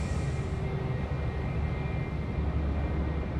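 A Jetstar airliner arriving from the Sunshine Coast at Sydney Airport makes a steady, moderately loud engine rumble with a faint high whine, heard from some distance with no voices.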